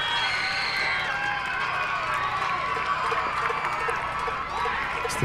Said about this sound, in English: It's the Farmer faithful cheering for the boys.